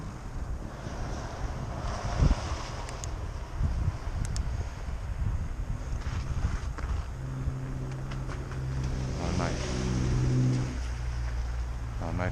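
Wind noise buffeting the microphone while riding a fat bike on a short trip to a nearby grocery store, a continuous rumbling gusty roar with low tonal hum building toward the end and a voice speaking partway through.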